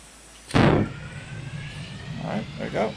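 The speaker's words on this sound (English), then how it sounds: "All right, so let's start the engines." Aircraft engines start up on a Mitsubishi G4M2E Betty bomber carrying an MXY7 Ohka in the Stormworks video game: a sudden loud burst followed by a lower sustained engine hum that swells and fades slightly over a few seconds.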